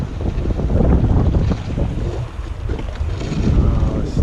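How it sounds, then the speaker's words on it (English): Strong wind roars across the microphone on a fishing kayak in choppy water, a loud, steady rumbling buffet with gusts rising and falling over the sound of water. "Oh, stop it, wind."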